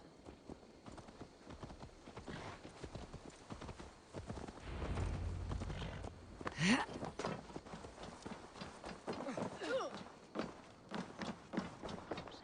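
Horse hoofbeats in Assassin's Creed Valhalla clip-clop steadily throughout, fairly close, with voices talking over them and a brief whinny midway.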